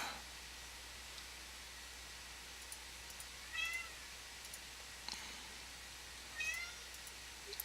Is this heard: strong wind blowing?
no